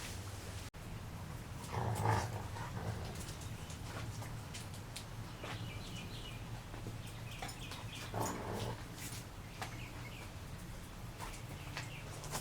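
A long-haired dog moves around indoors beside a coffee table wet with fresh varnish, making soft, close shuffling and scrabbling sounds over a steady low hum, with a few louder bumps.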